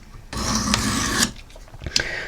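Knife blade, a Benchmade, stroked across Work Sharp diamond and ceramic sharpening stones using angle guides; a close, steady raspy scraping runs for about a second, then a few shorter scrapes follow.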